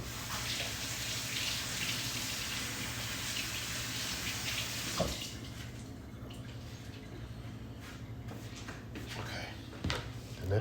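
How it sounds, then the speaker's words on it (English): Tap water runs steadily onto a cooked lobster shell being rinsed in a sink, a continuous splashing hiss that cuts off partway, leaving quieter clatter and a few small knocks. "I'm gonna take him over there and rinse him off real quick."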